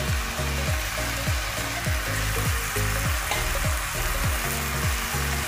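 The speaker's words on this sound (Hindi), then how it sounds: "अब इसके अंदर हम ये आलू और गोभी मिक्स कर देंगे" Potatoes and cauliflower fried with cooked tomato masala in a pan, giving a loud continuous sizzle with rhythmic scraping strokes of a spatula repeating roughly every half second.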